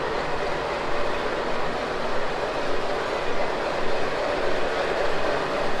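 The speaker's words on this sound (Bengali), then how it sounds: "সম্ভবত এই ট্রেনটাই যাবে এবং ট্রেনটা দাঁড়িয়েও আছে।" The Nilgiri Mountain Railway toy train stands at a small station, giving off a continuous, even rumbling drone with a faint pulsing texture, close and steady throughout with no talking.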